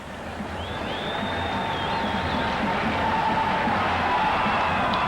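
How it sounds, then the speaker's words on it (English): Stadium crowd at a 1993 India vs Sri Lanka one-day cricket match in Colombo roaring in elation, a broad, steady cheer that swells slightly, with a faint whistle cutting through early on. "And the crowd absolutely elated."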